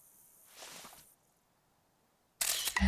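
A camera shutter clicks loudly near the end after a stretch of quiet and a soft rustle, as a close-up photo is taken in the hunting video game theHunter: Call of the Wild, beside an old abandoned lighthouse.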